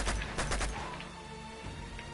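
Video game gunfire in Uncharted: Drake's Fortune, a rapid burst of several loud shots up front followed by a lingering rumbling tail and a couple of fainter distant pops.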